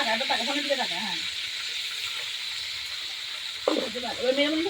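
Chicken pieces frying in oil in a pan, a steady close sizzle running throughout, with a brief louder burst near the end; a voice speaks over the start and end.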